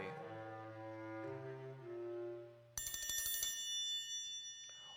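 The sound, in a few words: doorbell ringing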